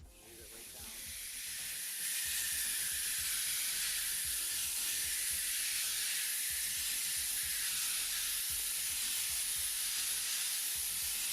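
An airbrush sprays gray paint over a marble-effect surface. After a short quiet lead-in, a steady, close, broad hiss builds and then holds evenly with no talking.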